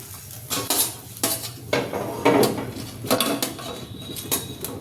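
A sago dosa comes off a hot pan onto a plate amid repeated sharp metallic clinks and scrapes of a utensil against pan and plate, loud and close, with a soft sizzle underneath.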